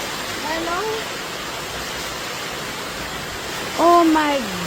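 Floodwater rushing during Hurricane Melissa in Jamaica makes a steady, broad roar that fills the whole stretch, with voices rising briefly over it near the end.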